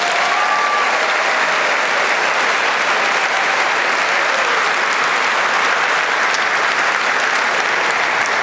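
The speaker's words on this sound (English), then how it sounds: "give yourselves a big round of applause." A large school-district audience at a back-to-school kickoff claps steadily and loudly, a dense, sustained wash of applause filling the room from start to finish with no one talking over it.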